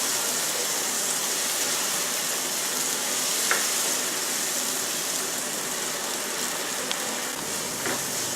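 Ground coconut masala frying in a pan for coconut chicken, a steady close hiss like light rain that barely changes, with a few faint ticks and no talking.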